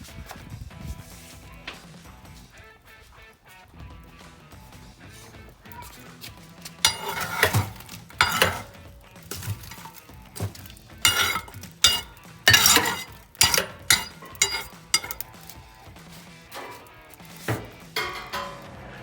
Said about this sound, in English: use the hook and move it across to the left hand side so we can cook on